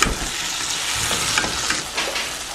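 Shrimp sautéing in a pan over medium-low heat, a steady close sizzle with occasional stirring scrapes and soft pops, continuous and alone with no talk.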